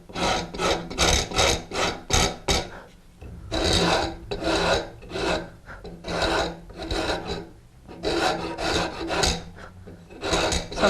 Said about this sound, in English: When I rasp and file this surface, it's not necessary to go right up to this edge